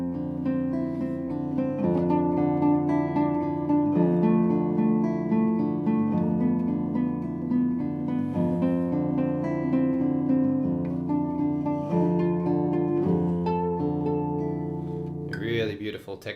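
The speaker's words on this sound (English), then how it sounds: "This one is a more modern example here by Philip Houghton" Classical guitar playing Philip Houghton's Kinkajou with the sixth string tuned up to F, a sustained ringing harmonic texture of overlapping plucked notes, steady and close, alone without talk.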